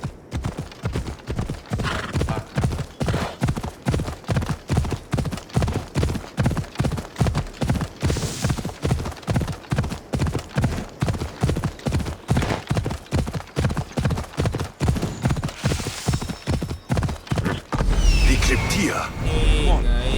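Horse hooves clip-clop steadily while riding in Assassin's Creed Odyssey, a fast, even rhythm of loud, close hoofbeats over continuous wind and ambience, ending with a louder burst of rushing noise.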